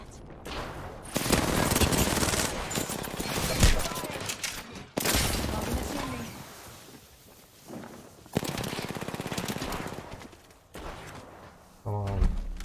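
Bursts of automatic gunfire in Apex Legends aimed at the player, loud and sustained across several long volleys with brief pauses between them and a short spoken remark near the end.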